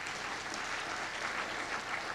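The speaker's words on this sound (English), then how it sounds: "they deserve a round of applause" A lecture audience at a law lecture applauds, a dense, even stream of many hands clapping at moderate volume throughout.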